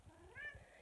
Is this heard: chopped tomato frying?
no